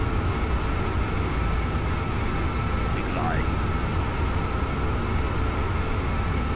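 High-speed TGV train running in the Train Sim 2016 simulator, a steady loud rolling rumble and whine held throughout, with a short voice speaking over it.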